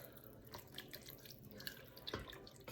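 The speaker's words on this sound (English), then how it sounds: "Then I'm going to add in the beef broth." Beef broth from a 32-ounce box pours into a pot of vegetable beef soup with crushed tomatoes, a steady close liquid trickle and splash running throughout with a brief louder gush near the end.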